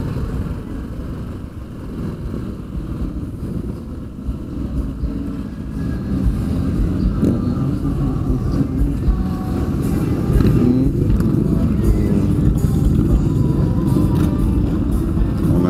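A Ducati motorcycle passes amid crowded street traffic at Daytona Bike Week, a loud, close engine rumble that swells and grows louder toward the end over a busy mix of other bikes.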